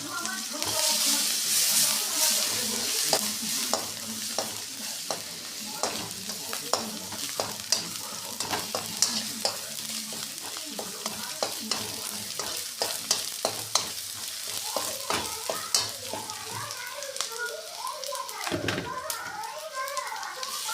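Chillies and tomatoes fry in a hot pan for a vegetarian tadka. A steady sizzle runs throughout, broken by repeated scraping clicks of a stirring spoon, with faint background voices.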